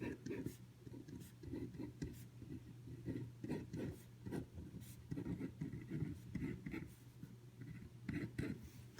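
Pen or pencil scratching on paper while a net ionic equation is written down, soft rhythmic strokes in short bursts under a faint room hum.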